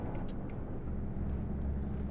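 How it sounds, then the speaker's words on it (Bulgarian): A DAF 95 truck in the video game Euro Truck Simulator 2 lets out a few quick sharp air-brake hisses early on, over a low steady engine rumble, with no talk. "Кеф има как се чува от скоростната кутия и спускането на въздух."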